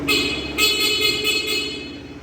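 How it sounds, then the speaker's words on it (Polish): The horn of a Daelim Daystar 125 motorcycle sounds in a short series of close, loud honks, one after another, with no talk. "klakson."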